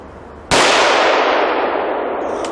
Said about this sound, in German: Ihm gilt der Schuss.